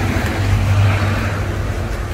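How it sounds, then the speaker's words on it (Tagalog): A car's engine runs steadily close by as the vehicle pulls away, a constant low rumble with no voices over it. "Andan niyo yung ating sasakyan"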